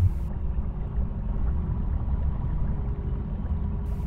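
Spaceship fuel engine from the video game Affordable Space Adventures, a steady low rumbling drone with a watery churn that holds at an even level without a break.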